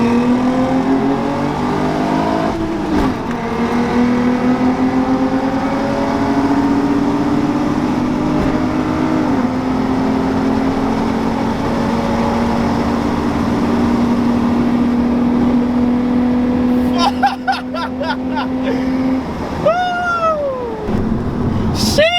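Manual and automatic Infiniti G35 coupes racing side by side, their engines droning loudly and steadily with pitch drops at gear shifts, then a sharp rising rev near the end.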